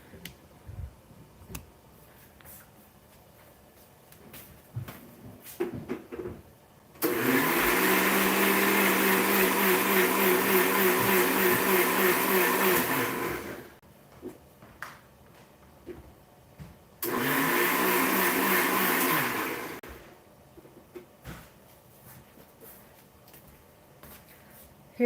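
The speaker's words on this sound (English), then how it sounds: "So I'm going to grind it to make a paste" An electric mixer grinder purees onion into a smooth paste, running in two loud, steady whirring bursts, a long one and a shorter one, separated by quiet pauses with light clinks around them.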